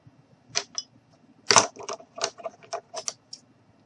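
Scissors snip white fluff for a gnome's suit: a quick run of sharp, close-up clicks, with one louder cut near the middle and several lighter snips after it, in a quiet room.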